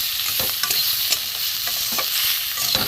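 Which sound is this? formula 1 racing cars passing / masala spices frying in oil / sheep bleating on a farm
masala spices frying in oil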